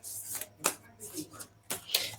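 Short riffling bursts of tarot cards being shuffled, a few quick flurries with gaps between, close and fairly quiet.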